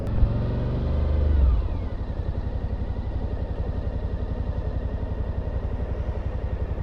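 A Suzuki V-Strom 1050 DE motorcycle ridden through city streets, its engine revving briefly and then settling into a steady, throbbing loping rumble up close.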